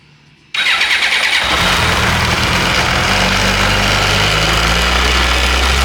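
A Honda Blackbird motorcycle engine, run without a battery, catches suddenly after a moment of quiet and settles into a loud, steady running roar with a deepening low rumble, heard up close with no talking.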